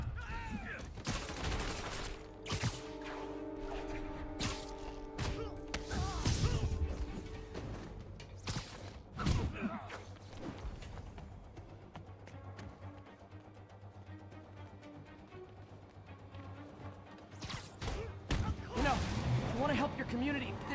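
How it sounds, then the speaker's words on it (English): Gunfire from armed enemies in Spider-Man Remastered on the streets of Manhattan: scattered bursts of shots and sharp impacts come at irregular intervals, mixed with other fight noises and game voices. "यहाँ गोली चल रही है."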